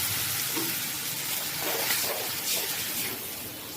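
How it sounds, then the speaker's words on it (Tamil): Steady loud sizzling and hissing as water is poured into a hot pan of oil while cooking ivy gourd gravy, with faint stirring sounds throughout. "இது முழுகிற அளவு கொஞ்சம் தண்ணி ஊற்றிக்கலாம்."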